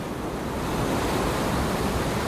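Ocean waves breaking at La Libertad, a small artisanal fishing port in El Salvador, with warm but rough water; a steady, loud broadband roar of surf fills the whole stretch without pause.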